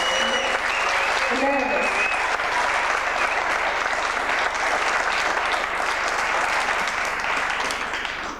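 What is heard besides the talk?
audience applause for a poet at a poetry event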